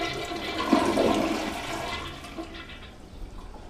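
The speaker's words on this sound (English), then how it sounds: "flush your toilet." A household toilet, shut off at the supply valve during a wax ring replacement, flushes with a loud rushing gush of water that swirls and then fades as the bowl drains, with no talking.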